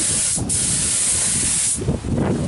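A second coat of spray paint goes onto a fender outdoors on a warm, breezy day: a loud, close, continuous hiss from the spray gun that lasts the whole moment with only slight wavering.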